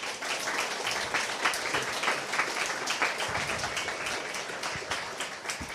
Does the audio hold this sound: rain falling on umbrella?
no